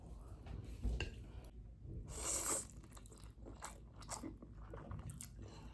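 Someone eating spicy noodles with eggs and sausage, with close, quiet bites, crunches and chewing sounds and soft clinks of dishes or cutlery, with no talking.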